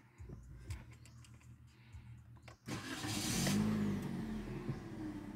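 A Toyota Vios 1.3 XLE CVT, 2020 model, is started partway through: after a quiet stretch with small clicks, the starter catches and the engine settles into a steady idle that rises briefly, then holds close and moderately loud.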